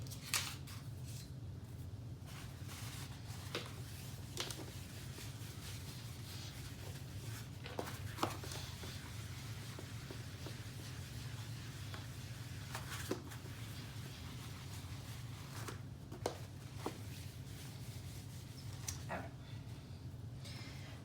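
A classroom board being wiped during a history lesson on Roman government, with quiet intermittent scraping and brushing strokes over a steady low room hum, no talking.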